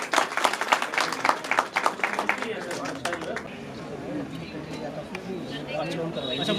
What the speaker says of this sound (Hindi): इनके लिए भी शानदार तालियां।